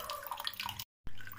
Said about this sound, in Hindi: या फिर हम इसमें थोड़ा सा ठंडा पानी मिला सकते हैं, ताकि ये ठंडा हो जाए